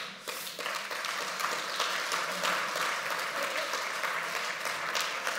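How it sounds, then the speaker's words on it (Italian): An indoor audience at a public talk applauds a CNR earth sciences department director with a sustained wash of clapping. It swells quickly and then holds steady at a moderate, slightly distant level. "questo ringraziamolo con un applauso"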